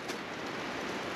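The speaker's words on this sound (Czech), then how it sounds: "Začalo pěkně pršet." Steady rain hisses down on a Czech hiking trail in the Orlické Mountains, a dense, even wash of drops close around with no talk.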